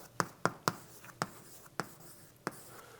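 Marker or chalk taps and strokes on a board come as about seven sharp, separate impacts at uneven intervals, close and fairly quiet.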